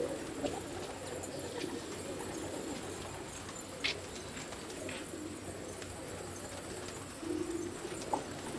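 White Bar pigeons coo softly and repeatedly in a loft setup, low throaty calls over a faint steady background, with a brief murmur of a voice.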